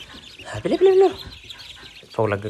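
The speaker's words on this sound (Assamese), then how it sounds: "এইফালে চাওক সৰু হাঁহবিলাক" Young ducklings in a brooder peep and chirp in short close bursts, with someone talking over them.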